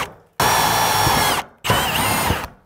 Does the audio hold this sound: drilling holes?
yes